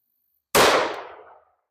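One close, sharp .357 SIG pistol shot firing DoubleTap 115-grain lead-free ammunition, a sudden loud crack that booms and trails off over about a second into silence.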